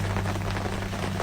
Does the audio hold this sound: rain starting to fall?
yes